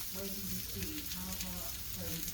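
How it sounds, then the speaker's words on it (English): Chicken and cheese schnitzels frying in a little grease and oil on a flat top griddle, a steady close sizzle and crackle throughout with faint background tones. "Time to put the schnitzels on."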